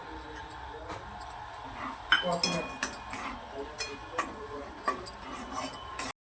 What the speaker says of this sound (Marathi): आता आपण हे खोबरे आणि शेंगदाणे आणि जिरेचं वाटण आपण ह्यामध्ये आता छान परतून घेऊया